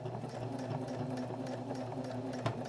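A sewing machine eases slowly around the corner of a fabric pouch, giving a soft, continuous motor hum with faint mechanical ticking, close and fairly quiet.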